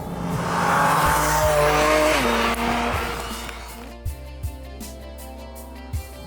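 Porsche 718 Cayman GT4 RS on a tarmac road, its engine roaring loud and close as it accelerates, pitch climbing then dropping through gear changes, followed by a steadier drone with a few sharp thumps.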